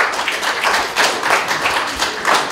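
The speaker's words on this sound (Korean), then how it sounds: "박수로 맞이해 주시면 감사드리겠습니다." An audience claps to welcome a presenter at a photography exhibition, a few seconds of moderately loud, uneven applause from a small crowd nearby.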